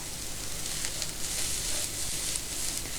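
Steady, close sizzling of vegetables sautéing in a pan, a continuous hissing crackle with no voices.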